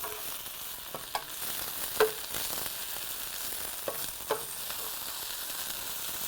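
Spinach wilts in a hot pan for a farmer's frittata, a soft steady sizzle with a few light knocks of a utensil as it is stirred around, close and fairly quiet, no voices.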